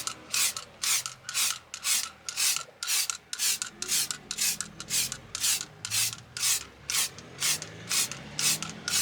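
Lacquer is sprayed onto plastic car trim in a steady run of short, regular hissing bursts, roughly two per second, close and fairly quiet with nothing else over them.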